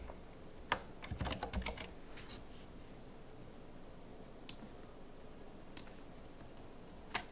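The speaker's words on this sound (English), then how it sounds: "I'm typing in Russian" Computer keyboard typing in scattered bursts, a quick cluster of clacking keystrokes early on followed by isolated single key taps, fairly close in an otherwise quiet room with no talking.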